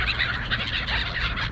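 Birds calling outdoors on a foggy street, a mix of pigeons, herring gulls, silver gulls and crows, giving overlapping calls and squawks over a steady background of wind or traffic.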